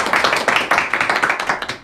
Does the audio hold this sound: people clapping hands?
yes